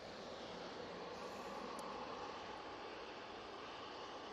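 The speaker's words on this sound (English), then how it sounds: "As that A321 Neo goes to Mahon." Jet2 Airbus A321neo airliner departing Manchester Airport gives a steady, broad engine roar throughout, distant but constant, with no speech.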